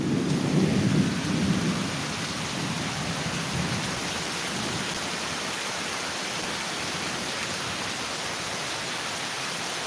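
A thunderstorm with a low rumble of thunder in the first two seconds, then steady, dense rain hissing evenly for the rest.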